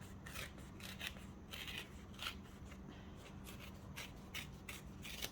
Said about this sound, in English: for now I'm just going to use a strip of the pink and I'm going to tear it